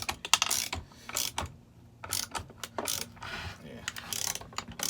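Socket wrench ratcheting while removing the case from a Stihl MS261 chainsaw, close rapid clicking bursts in uneven runs with brief pauses between them.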